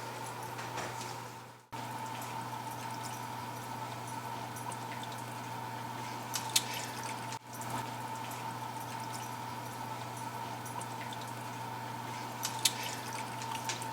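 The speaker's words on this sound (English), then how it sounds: "Now we're going to add to our glass pan warm water about 1 inch up the side of" Warm water being poured into a glass baking pan around a cheesecake, a steady, close liquid trickle running continuously with a constant low hum underneath.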